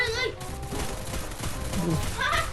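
Gunfire in the mobile battle-royale game Free Fire rattles on as a steady, moderately loud stream of shots beneath excited voices talking over it.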